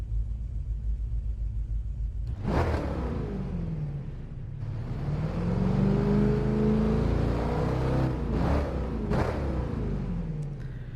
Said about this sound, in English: Just listen to that thing idle.